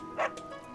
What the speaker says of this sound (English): You have a dog barking at you.